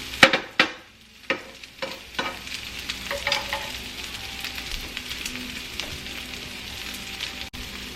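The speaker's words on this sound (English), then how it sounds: "this has been frying up for about 4 or 5 minutes now, and it's starting to brown up" Potato and egg pancake frying in a pan, a steady close sizzle with a few sharp clinks and scrapes of stirring at the start, then continuous crackling without talk.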